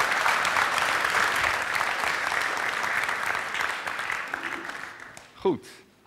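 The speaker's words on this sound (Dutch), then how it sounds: "Applaus voor Bart Jacob." Audience applause for guest Bart Jacob at a late-night tech talk show, a full burst of clapping that fades out gradually, ending with a brief voice and a thump as it dies away.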